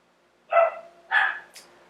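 A dog barks twice in quick succession, fairly close, followed by a short higher yip, with quiet between.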